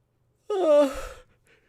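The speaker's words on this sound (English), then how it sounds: "Hopefully my yawning isn't contagious." A single audible yawn, drawn out and breathy with a falling tone, close to the microphone and otherwise quiet.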